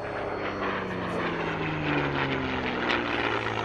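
Aero Superbatics Wingwalkers propeller biplane displaying at an afternoon airshow: a steady, moderately distant engine drone with slowly shifting pitch and no breaks, heard alone.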